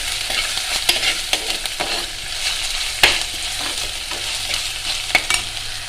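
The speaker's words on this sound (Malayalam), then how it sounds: "ഇഞ്ചി വെളുത്തുള്ളി ചെറിയ ഉള്ളി ചതച്ച് വെച്ചേക്കുന്നതാണ് അത് എണ്ണയിലേക്ക് ഇട്ട് കൊടുക്കാം നല്ലതുപോലെ ഒന്ന് മൂപ്പ് വരട്ടെ" Crushed ginger, garlic and shallots frying in hot oil for a toddy-shop style fish curry, a continuous bright sizzle with occasional sharp crackles and stirring clicks, close and fairly loud.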